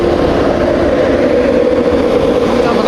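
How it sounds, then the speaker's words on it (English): An LNER Intercity train rumbles steadily and loudly at close range, a continuous roar with a low tonal drone and no distinct pauses. "we have got one of LNER's intercities"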